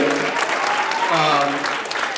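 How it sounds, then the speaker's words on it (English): Audience giving a big round of applause to a school swag step team after their performance, dense loud clapping filling the room for a couple of seconds without a break. "let's give the swag team a big round of applause for the steps that they just did"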